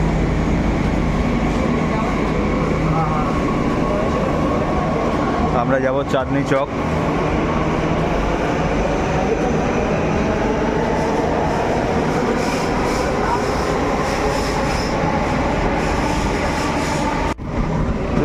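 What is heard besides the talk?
Delhi Metro train arriving at platform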